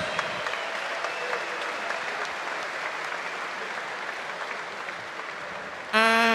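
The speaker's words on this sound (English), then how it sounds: "let's get a big round of applause, please, for both of these athletes after an excellent contest" Applause from an arena crowd after a fight-night bout in Zagreb rolls on steadily for several seconds, then a voice starts at the very end.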